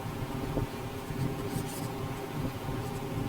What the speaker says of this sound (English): So let me write it.